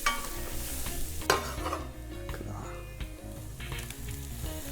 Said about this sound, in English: Can you hear that sizzle there?